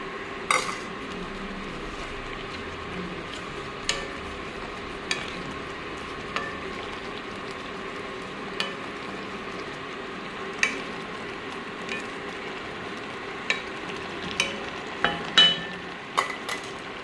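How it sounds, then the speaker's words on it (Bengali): Carrot halwa stirred in a pan, with a spoon clinking and scraping against the metal at a slow, irregular pace over a low, steady sizzle, close by and with no voices. "এখন ভালো করে আবার নেড়ে নিই"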